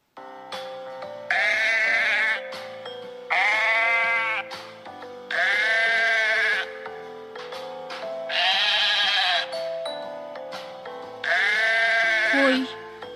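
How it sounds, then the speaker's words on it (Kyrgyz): A sheep bleats five times in a regular rhythm, each wavering call loud and close, set against continuous background music. "Кой."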